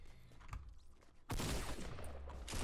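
Gunfire in the video game Fortnite: after a quieter stretch, a sudden loud burst of rapid shots erupts and keeps rattling to the end, with a final sharp shot near the close.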